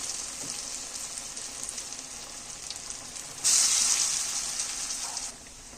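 Masala vada pieces deep fry in hot oil with a continuous crackling sizzle that surges louder midway as more batter drops in, then eases, close up with no talk.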